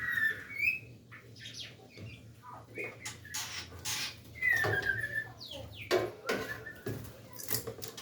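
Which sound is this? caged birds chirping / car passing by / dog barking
caged birds chirping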